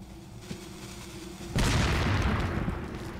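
An explosion in Resident Evil 4 hits suddenly after a quieter stretch of game ambience, a loud, broad boom whose roaring rumble lingers and slowly fades over the following seconds.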